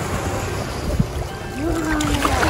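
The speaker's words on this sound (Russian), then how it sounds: "Смотри, волна." Ocean waves wash in along a Zanzibar shore, a soft broad surf rush building slightly over the seconds, moderately loud with faint background noises.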